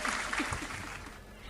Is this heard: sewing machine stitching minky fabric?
no